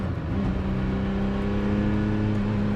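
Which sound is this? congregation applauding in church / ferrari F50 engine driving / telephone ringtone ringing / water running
ferrari F50 engine driving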